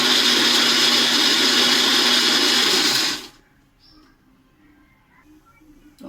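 A blender grinds yardlong beans with prawn heads and a little water into a paste, a loud steady motor whine for about three seconds that then cuts off, leaving a quiet room.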